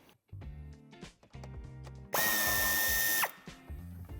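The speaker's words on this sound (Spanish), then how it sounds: "quitaremos el tornillo de la esquina" A power drill backs out the corner screw on an Audi A3 Sportback 8V restyling wheel arch, a loud whirring burst of about a second, with clicks and tool handling before and after.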